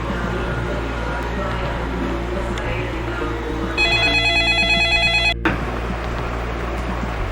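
A telephone rings in a quick pulsing electronic pattern for about a second and a half, then cuts off abruptly, over steady low background rumble.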